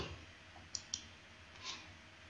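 A computer mouse clicks on an online form: two sharp, close clicks in quick succession, then a softer third, over faint room hiss.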